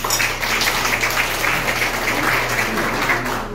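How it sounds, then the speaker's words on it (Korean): Loud, sustained applause from a gathered crowd at a summer retreat and unity event in a forest recreation area, continuous clapping throughout with a constant low hum beneath it. "큰 박수 부탁드립니다"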